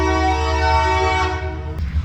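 Train passing close to a shop and sounding its horn: a loud, sustained multi-tone horn blast over a low rumble of the rails, fading out after about a second and a half as the rumble continues.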